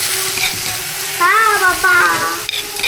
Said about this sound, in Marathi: हा मिरचीचा ठेसा टाकून घेऊ.